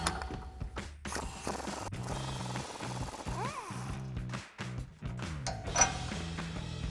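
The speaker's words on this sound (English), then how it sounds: "take an 18 millimeter socket to remove the frontmost bolt" An 18 mm socket on a ratchet works a bolt loose on a 2015-2024 Mustang rear toe link, giving repeated fast ratchet clicks in short bursts with metallic clinks between, close and fairly quiet.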